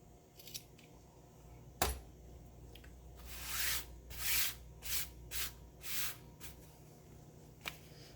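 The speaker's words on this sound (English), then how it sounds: "just trim the pointed corners a little bit" Scissors trim the pointed corners of a handmade fabric gift card envelope, a handful of short, close snipping and rustling sounds in a quiet room, with no talking.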